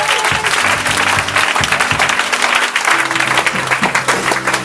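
A church congregation at an Easter service bursts into loud, sustained applause, dense clapping filling the room close by for the whole stretch.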